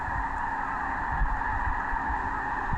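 Migrating ducks and geese gathered on open water amid sub-zero North Dakota prairie potholes, a dense continuous chorus of honking and calling that stays steady at a moderate level throughout, with no talk.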